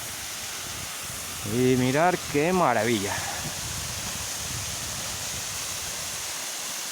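A 60 m waterfall in Asturias, with snow and icicles along its sides, pours over dark quartzite rock. From its foot it gives a steady, close, full-band rushing roar throughout, while a voice speaks briefly over it.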